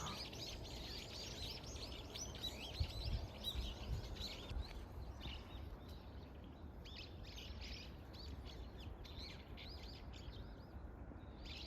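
Small birds chirp and twitter steadily in the background during a countryside walk, a busy mix of high calls at moderate distance over low outdoor rumble, with no one talking.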